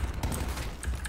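Faint, rapid gunfire bursts from Call of Duty: Black Ops 4 multiplayer crackle through a busy, low-level game mix, with a few sharper shots standing out near the end.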